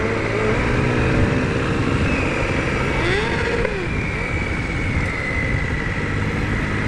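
A Triumph Thunderbird triple-cylinder motorcycle engine runs with a steady, loud, close drone, rising briefly in pitch partway through as it is revved, with no talking.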